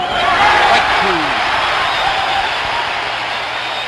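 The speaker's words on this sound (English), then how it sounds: "This crowd, a crowd that was spent, has come to life." A large baseball crowd at Fenway Park during Game 6 of the 1975 World Series, Reds against Red Sox, roars in a dense, sustained wash of cheering, with a commentator talking over it.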